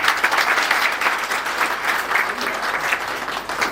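An audience at a retirement function at Kendriya Bhandar claps hard and continuously, a dense, even wash of many hands held at full strength throughout.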